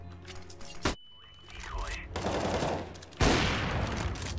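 Gunfire bursts in Counter-Strike, a rapid volley of loud close shots followed by a sustained crackling barrage, with a player's voice talking over the action.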